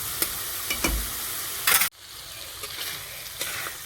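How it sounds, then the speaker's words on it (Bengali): Masala spices frying in oil in a pan for an egg curry, a steady close sizzle with a few stirring scrapes and a sudden drop partway through, continuing more softly. "ভালো করে মশলাটা ভাজা হয়ে গেছে, তেল ছেড়ে দিয়েছে"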